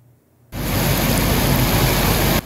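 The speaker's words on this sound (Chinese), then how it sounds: "只有大雨下不停" Heavy rain from a California atmospheric-river storm at the start of 2023 begins abruptly after a brief quiet moment, then pours as a loud, dense, steady hiss with no voices.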